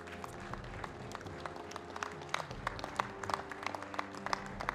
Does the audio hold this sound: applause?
yes